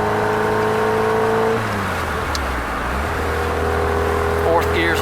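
A Triumph Spitfire's engine hums steadily while driving, its pitch dropping as the car shifts into a lower drone, then holding a steady note, with talk over it.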